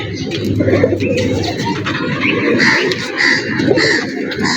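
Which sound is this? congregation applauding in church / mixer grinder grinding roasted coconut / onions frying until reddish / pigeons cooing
pigeons cooing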